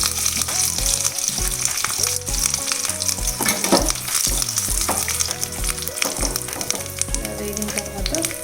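Spices and dried red chillies sizzle in hot oil as a tempering for Rayalaseema pachi pulusu, a loud, continuous crackling fry with light stirring scrapes throughout.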